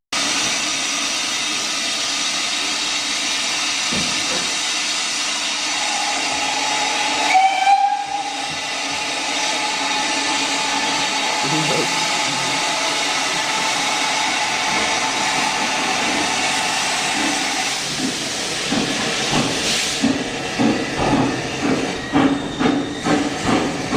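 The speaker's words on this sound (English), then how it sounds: "This is a broad gauge locomotive." A broad gauge Great Western Railway steam locomotive at the Didcot museum hisses loudly and steadily. A shrill steam whistle sounds briefly partway through, and rhythmic chuffing puffs build toward the end.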